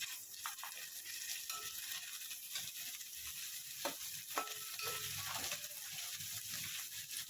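Ginger garlic paste and cashews fry in hot oil in a pan for coconut rice, giving a steady close sizzle broken by occasional scraping and stirring clicks.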